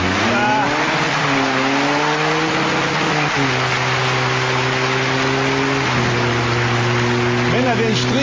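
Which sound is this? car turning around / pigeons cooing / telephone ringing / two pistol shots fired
car turning around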